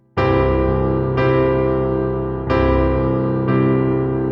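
Four sustained piano notes or chords played with the sustain pedal, struck about a second apart, each ringing on and blending into the next with no gap, full and fairly loud.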